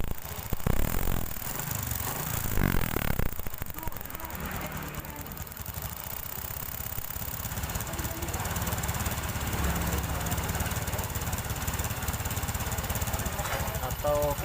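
A Honda Supra 125 motorcycle engine runs continuously with a rough, rattling beat close by, with a person talking over it early on.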